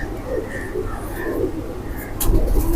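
Pigeons kept in a cabinet-style loft coo in soft, low repeated phrases, close by with some background rustle and a louder bump toward the end.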